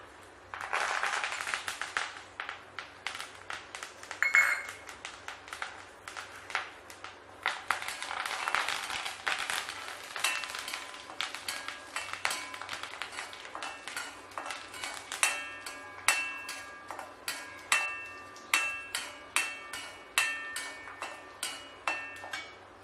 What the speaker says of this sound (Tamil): எண்ணெய் காஞ்சிருச்சுங்க. கடுகு உளுத்தம்பருப்பு போட போகிறேன்.